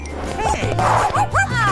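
A small dog gives a few short, yipping barks, close and fairly loud over a low steady hum, with a voice-like murmur mixed in.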